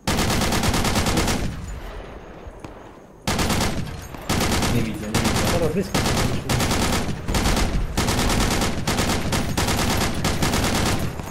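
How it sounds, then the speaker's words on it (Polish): Heavy gunfire in the video game Project Reality during a US Marine Corps versus Russian match on the Xiangshan map, long loud bursts of rapid automatic fire repeating with short gaps, while players talk quietly over it. "Hej, strzały."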